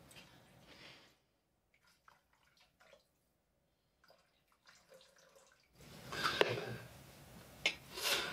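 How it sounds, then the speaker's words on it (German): Cooking liquid, about 500 grams, is poured into a Thermomix mixing bowl for a one-pot poultry leg ragout, a soft splashing pour swelling near the end after quieter handling noises. "Aber ich gieße jetzt mal hier 500 Gramm auf."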